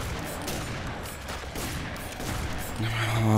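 Shotgun blasts in the first-person shooter F.E.A.R. 3, a dense burst of loud gunfire booms layered over game ambience and a rising mechanical drone toward the end.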